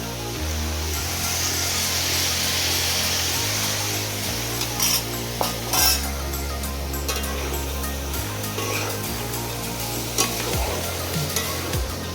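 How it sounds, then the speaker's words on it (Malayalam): Tamarind water is poured into a pan of bitter gourd pickle, bringing on a continuous loud sizzle with occasional stirring clatter over a low, stepped hum. "പിന്നെ നമ്മൾ കലക്കി വെച്ച പുളിവെള്ളം അതിലേക്ക് ഒഴിച്ചു കൊടുക്കുന്നു"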